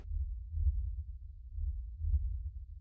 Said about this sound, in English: It's a female that stops, and you hear her heartbeat, Ronan.